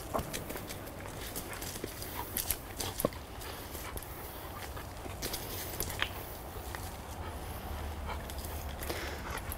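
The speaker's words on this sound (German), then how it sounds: "So, Amalia zerrt, will die Beute packen." A dog tugs and pulls at a bite toy on a rubber-cord stick, with scuffling paws, shuffling movement and panting under light thumps, continuous and fairly close.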